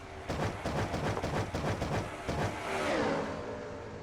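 Race cars roar past in a NASCAR video game, a rapid burst of pulsing engine notes followed by a rising, then fading whoosh as a car passes close by.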